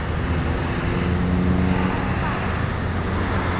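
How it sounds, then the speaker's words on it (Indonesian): Loud, steady roar of heavy road traffic at night as an intercity Jakarta–Padang bus rumbles past nearby, with a low engine drone throughout. "sudah 8 bus Sumbar ya yang melintas tadi ya"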